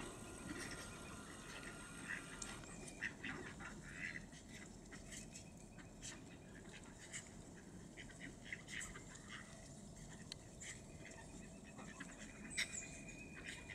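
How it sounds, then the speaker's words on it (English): Ducks feeding on the Concord River give soft, scattered quacks and little muttering calls, faint and somewhat distant over a low background hush. "Making contented little quacking sounds."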